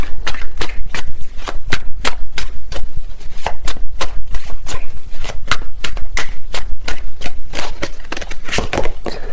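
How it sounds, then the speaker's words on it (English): Tarot cards shuffled rapidly and continuously, with a steady run of loud, crisp riffling snaps close up and some cards flying out of the deck. "These cards are flying out."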